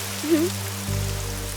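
Rain falls steadily in an outdoor movie scene, a continuous soft hiss that grows denser partway through, with a tonal musical hum running underneath and a brief vocal sound early on.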